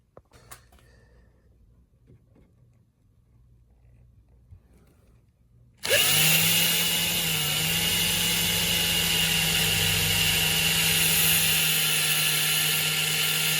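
Power drill boring holes in a boat dash, starting abruptly after a quiet lead-in and then running as a loud, steady high-pitched whine close by, with no speech.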